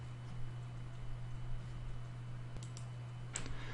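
A few sharp computer mouse clicks, close and isolated, over a steady low electrical hum in a quiet room while working in project management software.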